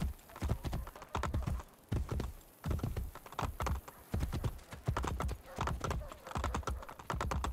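Horse hooves clip-clopping at a steady galloping rhythm in Assassin's Creed Brotherhood, close and loud, with rhythmic thumps running throughout.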